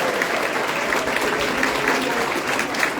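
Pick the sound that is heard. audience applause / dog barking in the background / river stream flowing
audience applause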